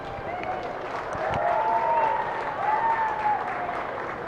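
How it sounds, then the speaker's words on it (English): Audience applause at a 4-H, FFA and open dairy cattle show for the junior and grand champion, a steady wash of clapping in a large show arena, with a voice faintly audible beneath it. "Let's give her a big round of applause."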